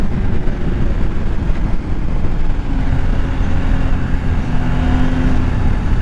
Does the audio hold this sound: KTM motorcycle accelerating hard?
yes